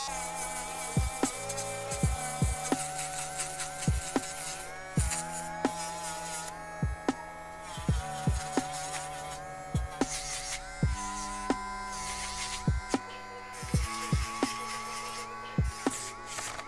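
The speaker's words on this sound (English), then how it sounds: "the Dremel should be sufficiently charged to hit this bag" A cordless Dremel rotary tool grinds into a denim bag with a steady high buzzing whine, punctuated by repeated short clicks and taps as the bit catches and lifts off the fabric, no voices.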